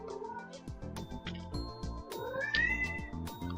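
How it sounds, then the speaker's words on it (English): A cat meows and caterwauls in a visual novel game, several short insistent calls in quick succession, clear and close over a quiet musical backdrop. "My cat is very noisy today."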